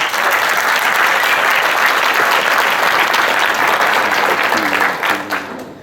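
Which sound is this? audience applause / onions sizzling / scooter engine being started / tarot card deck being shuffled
audience applause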